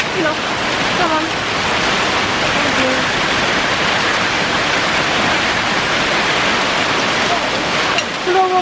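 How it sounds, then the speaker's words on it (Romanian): Heavy rain mixed with hail pours down outdoors, a dense, steady hiss of impacts with faint higher pings, loud and continuous, with a few brief voice traces. "Plouă cu grindina, uite ce frumos e."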